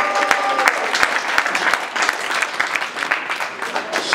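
An audience breaks into loud, sustained applause and cheering for a national champion slam poet, the clapping dense and close with a crowd voice rising through it.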